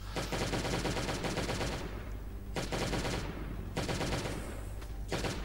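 Genesis weapons fire in the game Last Day on Earth, with loud, rapid bursts of automatic gunfire broken by short pauses, close and dense, and no talking.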